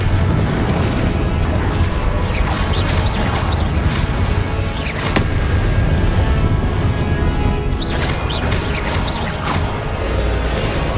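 Confringo blast spells are cast in Hogwarts Legacy on PC during a duel, sounding as loud, continuous booms and crashes with whooshing bursts and sharp impacts layered over a dense battle din.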